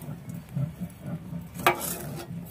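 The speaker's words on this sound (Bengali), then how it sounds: "সবকিছু দিয়ে একসঙ্গে ভালো করে কষিয়ে নেব।" Spices with turmeric and sugar sautéing in a pan, soft uneven sizzle and gentle stirring scrapes with one sharper clink near the end, fairly quiet and close.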